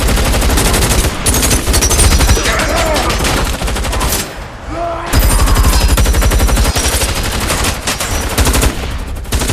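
Rapid automatic gunfire in a film shootout between guards and robbers, loud dense bursts of machine-gun and rifle fire nearly throughout, with a brief lull midway before the barrage resumes.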